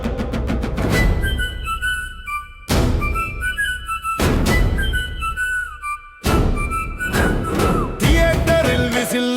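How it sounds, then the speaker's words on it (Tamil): Whistle blasts in a lively Tamil political party campaign song for TVK, bright sharp tones recurring in short bursts over heavy percussive thumps and a dense musical backing. "விசில் போடு, விசில் ஒலிக்கவே."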